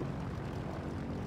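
Droning propeller-plane engine in a World War II-style flight combat video game, a steady, loud continuous hum with no talk over it.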